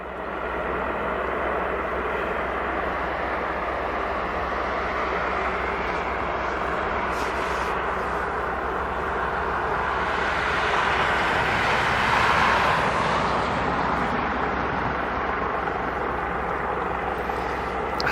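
A US Coast Guard HC-130J turboprop arrives at Aberdeen Airport, its broad engine roar holding steady and swelling slightly toward the end, heard from a distance.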